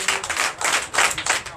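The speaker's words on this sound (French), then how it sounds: "je vous demande d'applaudir très fort" Congregation clapping loudly at a Sunday church service in Comé, Benin, a dense, steady patter of many hands with rhythmic swells lasting the whole moment, close and bright.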